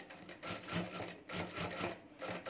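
A sewing machine stitches along a marked line on a small backpack keychain, running in short rapid bursts with brief pauses between them, quiet and close.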